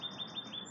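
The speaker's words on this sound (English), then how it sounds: "You can hear the birds." Birds chirping outdoors near an apartment garden, a brief rapid series of faint high twittering notes in a quiet setting.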